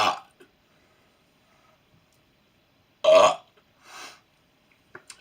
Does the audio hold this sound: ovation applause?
no